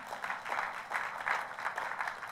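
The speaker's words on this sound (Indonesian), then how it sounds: "Oh boleh tepuk tangannya yang paling meriah." Congregation in a church service applauding together, a dense steady wash of many hands clapping with soft rhythmic swells, moderately distant and continuous throughout, no voices standing out above it.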